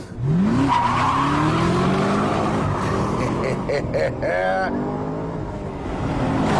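A Chevrolet Camaro with a 6.2-litre V8 accelerates hard, its engine note climbing through the gears in loud rising sweeps while tires squeal briefly, all close and continuous.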